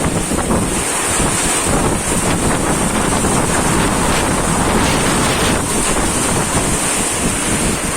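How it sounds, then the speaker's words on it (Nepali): Heavy rain pours down on a maize field in a loud, steady, dense hiss that runs unbroken from start to finish, with no voices. "पानी खत्रै पर्न थालिसकेको छ"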